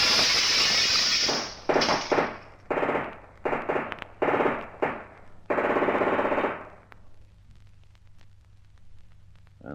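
A radio drama scene: a man dives through a window, with a burst of loud crashing and shattering glass in several rapid, ragged bursts, followed by fading debris tinkles and near silence.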